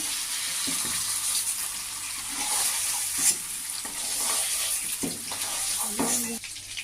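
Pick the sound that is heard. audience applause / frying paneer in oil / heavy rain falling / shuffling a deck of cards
frying paneer in oil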